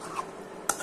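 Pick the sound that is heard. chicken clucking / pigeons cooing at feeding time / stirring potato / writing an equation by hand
stirring potato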